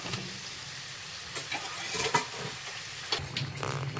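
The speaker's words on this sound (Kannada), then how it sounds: "ಸ್ವಲ್ಪ ಕಲರ್ ಚೇಂಜ್ ಆಗಿದ ತಕ್ಷಣ ತಿರುಗಿಸಾಕೋತಾ ಹಾಕೋತಾ ಇರಬೇಕು" Karjikai, sweet stuffed pastries, deep-frying in hot oil with a steady close sizzle, broken by occasional scrapes and clinks as pieces are turned over in the pan.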